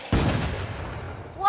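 A single loud firework bang in a cartoon booms sharply and rolls away in a fading rumble, with a voice starting just at the end.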